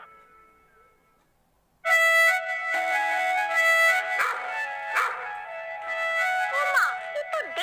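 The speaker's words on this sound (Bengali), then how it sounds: "কুকুরটা কিভাবে ডাকছে দেখো" After a near-silent start, a hungry dog abruptly begins whining and yelping loudly and continuously close by, its cries rising and falling.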